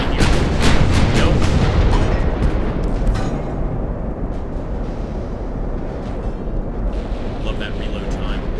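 A naval cannon volley fires in Ultimate Admiral: Dreadnoughts, a dense cluster of loud booms in the first seconds that fades into a long rumbling roar of sea and battle ambience.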